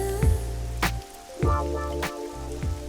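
Rain falls steadily in a scene from a Hindi-dubbed South Indian film, with a few sharper drips and splashes over a constant wet hiss and low background hum, and no voices.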